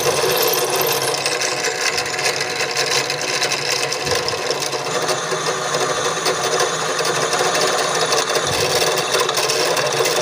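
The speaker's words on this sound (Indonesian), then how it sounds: "Jadi kita bor dari jarak ini ke sini ya." Power drill boring a hole to mount a front shock raiser on a motorcycle, a loud continuous grinding whir with harsh rasping texture that holds steady for about ten seconds.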